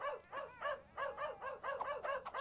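A dog in a video game barks and yips in a quick, lively series of about eight sharp bursts, close and loud with no talk over it.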